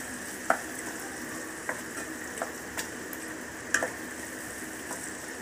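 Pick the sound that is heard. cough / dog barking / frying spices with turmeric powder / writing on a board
frying spices with turmeric powder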